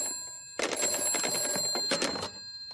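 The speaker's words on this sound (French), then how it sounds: "je vais appeler mon amie Madame Elf" Cartoon telephone bell ringing in a continuous trilling burst, clear and close, cutting in suddenly after a short pause and stopping abruptly, with no talk over it.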